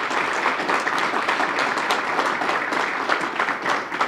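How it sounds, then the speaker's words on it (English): A crowd at a Toys for Tots kickoff event gives mayor Marty Walsh a sustained round of applause, dense clapping filling the room steadily without a break. "give us a good round of applause for Marty Walsh"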